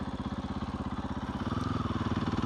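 A motorcycle engine runs steadily close by, its rapid regular pulsing firing note clear and unbroken, climbing slightly in pitch partway through as the revs rise a touch.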